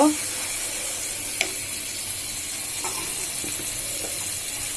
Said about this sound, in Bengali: এবার মশলাটাকে কিছুক্ষণ সময় আমি কষাই নিব